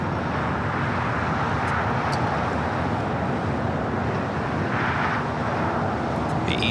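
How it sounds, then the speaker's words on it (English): A Korean Air Cargo plane takes off from runway 25 left at LAX, close to the microphones, its jet engines producing a broad, steady roar with wind rumble that swells slightly toward the end. "Looks like Korean Air Cargo going to be taking off on 25 left"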